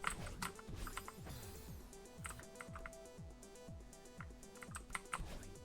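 Rapid keystrokes clatter on a mechanical computer keyboard, a dense steady stream of clicks over a low rhythmic musical bed, with no voices.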